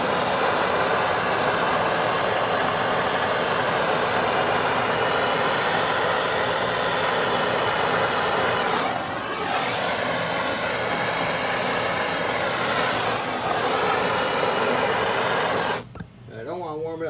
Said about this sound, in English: Now I'm gonna take my torch and just warm this up a little bit.